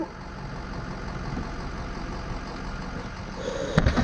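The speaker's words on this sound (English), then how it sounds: "It sounds like we cranked up the motor just a little bit." A truck motor runs steadily at a medium idle, a continuous low rumble that holds even throughout, with a brief louder knock or clatter near the end.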